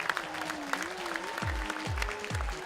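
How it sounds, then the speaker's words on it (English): Steady crowd applause fills the hall for the Busu Secondary team at the 2011 Lae debate grand final, continuous and fairly loud throughout, with a few low thumps and a faint tone running beneath. "Round of applause for Busu Secondary team."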